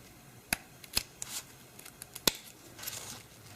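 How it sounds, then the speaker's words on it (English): Scissors make several sharp, close snips while cutting ribbon for a pinwheel hair bow. The cuts come at irregular intervals over a quiet background. "So I'm just going to cut up this way."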